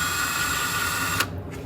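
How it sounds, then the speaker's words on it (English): A power drill drilling pilot holes whines steadily at close range, then cuts off abruptly, leaving a quieter hum. "So I'm going to drill some pilot holes."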